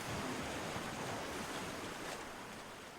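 Someone blows across watery paint in a wave-painting craft, a continuous close breathy rush of air like wind on the microphone, steady for about three seconds.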